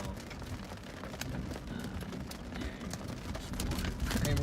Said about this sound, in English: Already starting to get some big hail here.